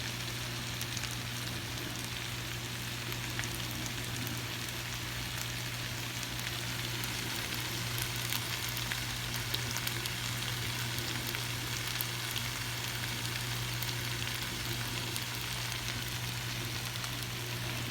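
Ingredients for potato soup cook down in a pan, a steady, even sizzle and fry hiss that carries on unbroken at moderate volume with nothing else over it.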